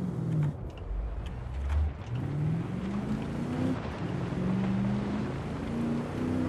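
A tuned car in Forza Horizon 4 with an engine built on a Racing 7.2 V8 drones and revs, its tone climbing in repeated sweeps as it pulls through the gears over a steady rumble.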